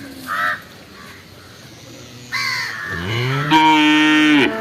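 A cow lets out a drawn-out moo that swells near the end at an outdoor livestock market, with a crow cawing briefly beforehand.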